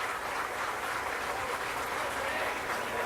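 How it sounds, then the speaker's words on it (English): Steady applause from the stands at a high school football game, Crockett vs. McCallum, a dense continuous wash of clapping heard from a distance for about three seconds. "And if you're able to hear claps"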